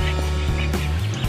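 Pet duck with a freshly hatched brood of ducklings, steady overlapping soft calls and peeps close by throughout, with no talking.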